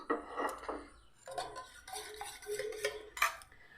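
Egg is spread around a lightly oiled pan, heard as soft, close scraping and rubbing strokes of a utensil against the pan in short bursts with brief pauses between.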